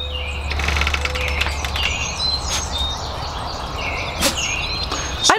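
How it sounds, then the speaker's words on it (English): Many different birds singing outdoors on a Missouri morning, overlapping chirps, trills and sharp whistled calls from several directions, some near and loud, over a low steady background rumble. "I don't know how many different birds."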